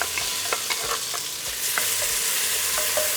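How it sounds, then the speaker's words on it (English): Diced onion and roasted hatch pepper sizzle steadily in hot oil, a dense, close frying hiss with occasional crackles and stirring sounds throughout. "Once the oil is nice and hot, we're going to add our diced onion and diced roasted hatch pepper."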